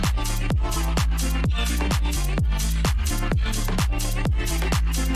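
An electronic dance music drop built from chopped vocal samples: loud, driving beat with heavy sub-bass hits and sharp pitch-swept stabs repeating in a tight, fast rhythm, with no talking.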